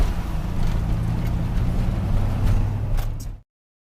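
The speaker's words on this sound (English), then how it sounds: "Traffic." Steady roadside traffic rumble from passing vehicles along a highway median where mowing is underway, a continuous low engine and tire drone that holds loud and close before cutting off abruptly.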